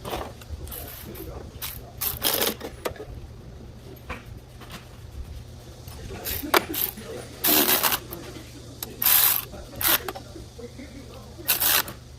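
A ratchet runs down four 12mm bolts on the cover of a tiller engine, giving short bursts of quick clicking at irregular intervals. Low mechanical hum sits underneath and a voice talks between the bursts.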